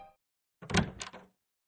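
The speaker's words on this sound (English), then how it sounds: "At the sound of the door slamming open" A door slams open in the Steins;Gate visual novel game, one sharp close bang followed by a brief rattling knock, set off by silence on either side.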